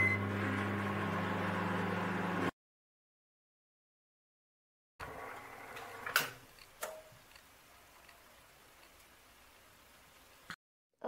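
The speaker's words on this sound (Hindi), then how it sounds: "इसे 3 मिनट के लिए माइक्रोवेव में चलाएंगे।" A microwave oven runs while heating mung dal halwa made with ghee, with a steady hum first, then a silent gap, then quieter running with a few ticks and a sharp beep-like click near the end.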